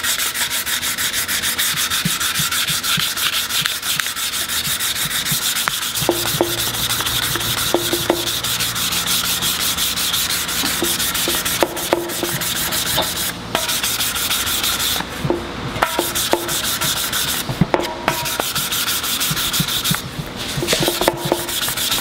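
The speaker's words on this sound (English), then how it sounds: "Now we're just gonna block sand it with some 400 and see how she's looking." Steady rasping block sanding with 400-grit paper over glaze putty filling a small dent on a car body panel, continuous close scrubbing strokes with a few sharper scuffs, no talking.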